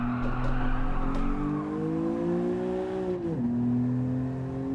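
A race car engine in the Gran Turismo 7 game revs steadily with a droning, rising tone, then drops sharply as it shifts, loud and close with no talk.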